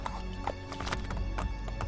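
Horse hooves clop in quick, uneven beats in Assassin's Creed Brotherhood, loud and close over a dense game soundscape for about two seconds.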